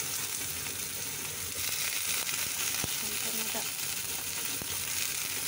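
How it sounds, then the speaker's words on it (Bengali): Prawns frying in hot oil in a home kitchen pan, giving a dense, constant crackling sizzle with a couple of sharp utensil ticks, close and fairly loud, with no talk. "তেলের মধ্যেই চিংড়ি মাছগুলো দিয়ে দিলাম।"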